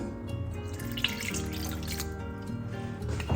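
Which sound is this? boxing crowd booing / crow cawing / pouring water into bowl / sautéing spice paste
pouring water into bowl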